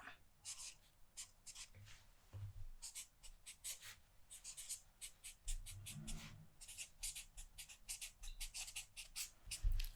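A pen writes on paper at a close-up secretary's desk, producing a quick run of crisp, soft scratching strokes in short bursts with brief pauses, close and intimate.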